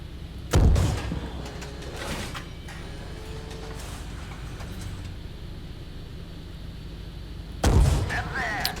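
Tank cannon rounds from a combat video game, fired at an M1 tank: two loud, deep booming shots spaced several seconds apart, each with a sharp onset and a lingering rumble over steady background noise.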